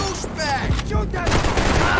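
Bursts of gunfire in the video game Max Payne 3, several sharp shots scattered across a short firefight. Dense game sound and shouting fill the background.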